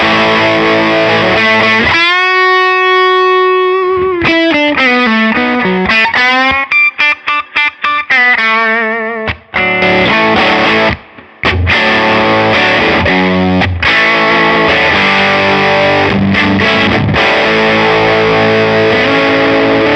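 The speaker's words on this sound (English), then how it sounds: "The pedal is pushing the amp into distortion." An electric guitar runs through a Beetronics pedal that drives the amp into distortion, playing sustained chords and then choppy, stop-start riffs that are loud, thick and buzzing, with no talk.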